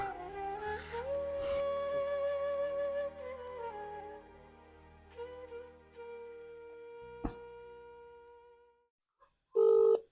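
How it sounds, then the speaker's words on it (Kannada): Someone dials a telephone at night, a run of steady electronic tones that shift in pitch, then a few short isolated beeps, with a brief louder tone burst at the end. "ರಮೇಶ್ಗಿರಿ ಫೋನ್ ಮಾಡೋಣ"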